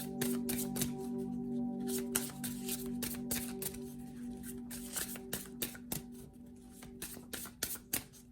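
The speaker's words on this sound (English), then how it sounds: "I'm literally just pulling cards today" Tarot cards shuffled and pulled from the deck in quick, crisp riffling bursts, close and fairly quiet, with no talking.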